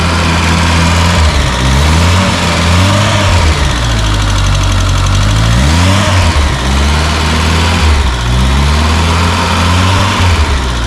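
Close and loud, a SEAT 600 D four-cylinder car engine runs steadily at idle with a slightly knocking, uneven rhythm, punctuated by a couple of brief revs that rise and settle back, and nobody speaks.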